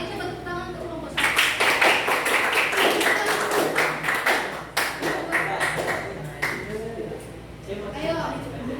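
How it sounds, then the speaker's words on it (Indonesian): A classroom of high school students clapping for a group of classmates, a dense burst of applause starting abruptly and continuing in uneven waves, with voices talking and calling out over it. "coba tepuk tangan untuk kelompok 1."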